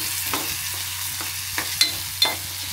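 Tomatoes tossed into a hot frying pan for a home-style fish recipe, giving a steady close sizzle with a few stirring scrapes and clinks, no voices.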